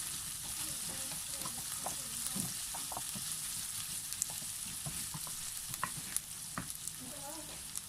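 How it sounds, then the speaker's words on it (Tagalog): Onion and garlic sauté in a pan, with a soft continuous sizzle and occasional stirring scrapes and clinks, fairly quiet and steady throughout. "let's continue to saute this for a few seconds"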